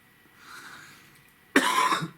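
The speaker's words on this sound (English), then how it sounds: "Cough, breathe." A single sharp cough bursts out after a stretch of quiet breathing, loud and close, with a rough throaty tail.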